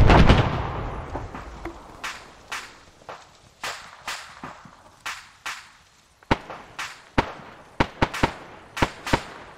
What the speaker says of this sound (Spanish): Están disparando para acá